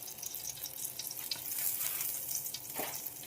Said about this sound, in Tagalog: Yan, igigisa na po tayo.